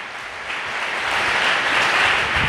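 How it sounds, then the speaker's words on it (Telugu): A church congregation claps together, a dense, steady wash of applause that swells slightly louder toward the end. "చప్పట్లు కొట్టి దేవుని నామమున మహిమపరుద్దామండి"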